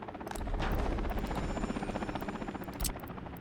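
Firefighting helicopter in the Workers & Resources city-building game, arriving to a burning building in winter: a loud, steady rotor thump with whining turbine drone, continuous and close, with no talking.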